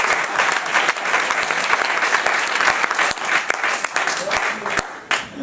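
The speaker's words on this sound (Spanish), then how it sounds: "Dele un fuerte aplauso al Señor." Loud applause from a church congregation fills the whole stretch, dense steady clapping with sharp individual claps standing out, under some voices.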